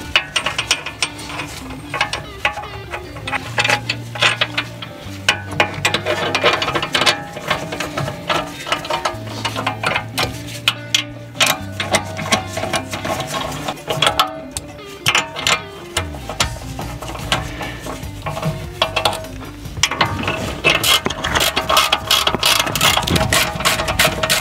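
Ratchet wrench tightening the hub screws on a Tesla hub carrier during suspension repair, loud rapid clicking in repeated bursts with pauses, close up and alone.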